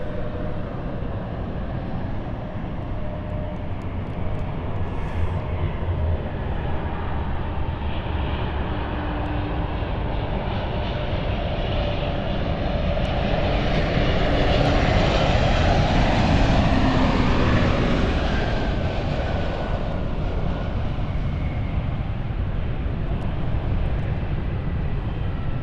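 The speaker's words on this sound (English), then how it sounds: "I can hear a Embraer starting up." Embraer jet on an airport stand spooling up its engines, a steady distant roar with a rising whine that swells midway and holds, broad rumbling noise with no talk over it.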